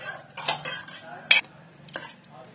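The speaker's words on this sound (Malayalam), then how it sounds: "പുളി ചേർത്ത് ഇളക്കി കൊടുക്കാം." A spoon scrapes and clinks against a pot as tamarind is stirred into a simmering taro leaf curry, with a few sharp metallic knocks over a low bubbling background.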